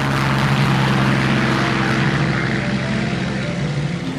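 Two-seater Spitfire in flight, a loud continuous propeller engine drone heard from inside the cockpit, steady and filling the whole stretch without a break.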